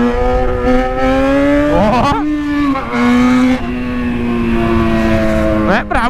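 Yamaha XJ6 motorcycle engine held at a steady loud rev near the rider, with sharp throttle blips swooping up and down around two and six seconds; a brief voice exclamation.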